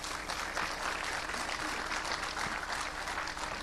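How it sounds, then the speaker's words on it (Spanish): Loud, sustained applause from a church congregation, a dense patter of clapping hands that continues evenly throughout. "le vamos a recibir con un fuerte aplauso"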